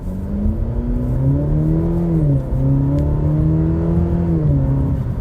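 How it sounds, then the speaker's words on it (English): A Cadillac's engine revs as the gas is hit at a dealer auction, a loud, close roar that rises and falls in pitch through a few surges of throttle, with no talking. "I want to hit the gas and it go"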